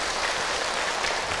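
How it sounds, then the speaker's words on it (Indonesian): Audience applause at an Islamic Ramadan talk, a steady dense wash of clapping that holds at an even level for the whole short stretch with no talk over it. "Tepuk tangan sekali lagi Ibu untuk Hilman."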